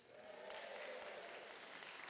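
An audience at Nettlefield Primary School's Harvest Service claps and cheers for the junior choir, a soft, steady wash of applause with a faint cheer rising in the middle, heard at a distance.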